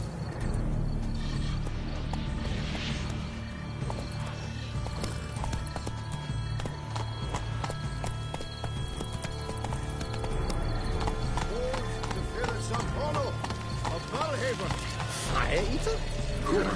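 Horse hooves clip-clop steadily through the Witcher 3: Blood and Wine video game, a close, rhythmic trotting beat under a busy game soundscape with occasional mechanical clinks and spoken dialogue.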